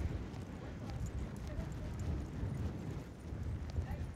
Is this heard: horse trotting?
yes